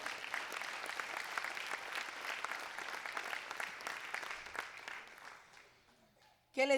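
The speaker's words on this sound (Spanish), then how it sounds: "Denle el aplauso al Señor" A church congregation applauds together, a dense, steady wash of clapping that carries for about six seconds, then thins and fades to near silence before a brief voice cuts in at the end.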